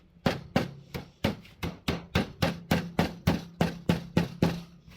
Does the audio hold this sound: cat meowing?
no